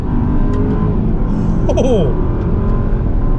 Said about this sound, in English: We'll get a couple downshifts here and an acceleration.